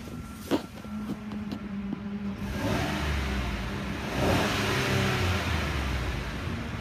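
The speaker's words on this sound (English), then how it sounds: "Let's listen to the motor." A 2014 Chevrolet Silverado 1500 LT engine runs nearby, with a few metallic clicks at first, then a steady mid-pitched rumble that swells as it revs a little.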